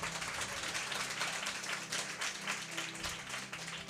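Church congregation clapping hands together at a worship service, a dense, steady wash of many claps sustained throughout, with faint voices and music underneath.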